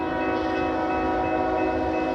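Train on a CSX line passing close by, a loud sustained horn chord over steady rumbling wheel and engine noise throughout.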